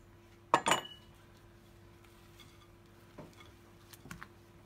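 Walnuts and cashews tipped into carrot cake batter, a quick clattering rattle of nuts against a bowl, then faint scattered clinks afterward in a quiet kitchen.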